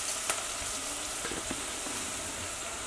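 Onions and chili fry in a pan for an okra dish, giving a soft, steady sizzle with a few faint clicks and stirring taps.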